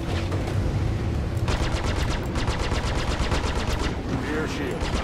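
Rapid automatic gunfire rattles in bursts during a Star Citizen space combat session, loud and close, with a steady engine rumble underneath and overlapping weapon fire.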